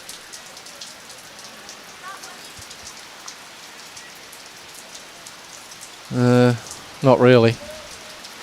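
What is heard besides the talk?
rain falling on a bowls green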